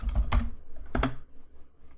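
Typing on a computer keyboard, heard close up: two quick bursts of key clicks followed by softer, scattered taps, with no talking.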